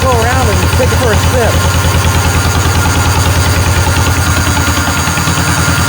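An old 1949 John Deere tractor engine idles while warming up in the cold, a steady, loping chug, close and loud throughout, while a person talks briefly at the start.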